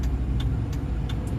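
Car traffic passing nearby, a steady close engine and road rumble with a few faint ticking clicks over the top, no voices.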